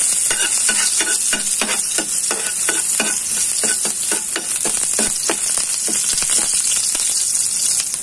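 Garlic, onion and ginger are sautéed in a pan for squid adobo. A loud, continuous sizzle runs under rhythmic stirring strokes that scrape about three times a second.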